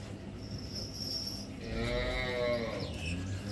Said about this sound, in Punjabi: ਗਾਂ ਤੇ ਬਹੁਤ ਦੁੱਧ ਵਾਲੀ ਆ